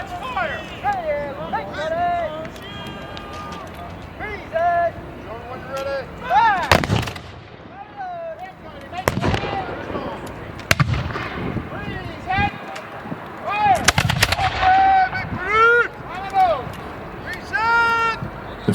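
Cannon and musket volleys boom at a French and Indian War reenactment at Fort Ligonier, several loud sharp blasts spaced irregularly, with crowd voices and shouted commands between shots.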